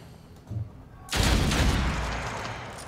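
Gunshots in the video game Othercide, a faint thud followed by a sudden loud burst of fire that rings out and slowly decays.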